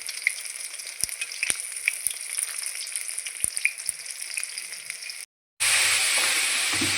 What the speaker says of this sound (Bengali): এই 4টে নামিয়ে ওগুলো ভেজে নেব একইভাবে উলট পালট করে।